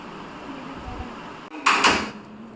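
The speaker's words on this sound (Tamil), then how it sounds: "கதவு திறந்துச்சு." A door opens into a kitchen with a sudden bright swish and clatter lasting about half a second, loud and close, over a steady room hum.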